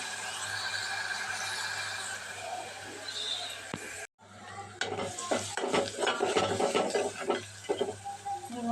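Onion pieces being stirred as they fry in a pan in a home kitchen, with a steady sizzle and repeated scraping and clinking of a utensil against the pan, louder and busier in the second half after a brief pause.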